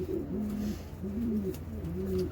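A red checker racing pigeon hen coos nearby in three repeated low, throaty phrases at a steady rhythm, clear over a faint background hum.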